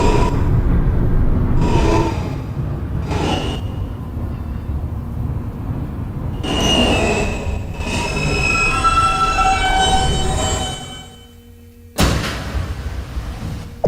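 An R160 subway car on a New York N local in Brooklyn rumbles along the track, its wheels squealing in bursts, then slows and stops with a hiss of air brakes, the rumble dropping away before a sharp clunk restarts the noise.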